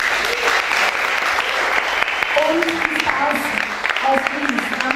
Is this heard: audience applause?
yes